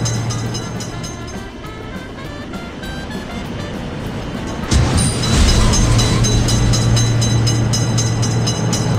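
A train rumbles past a road railway crossing gate in an Indian train game with a steady low drone and clatter, growing louder and fuller partway through as it draws near.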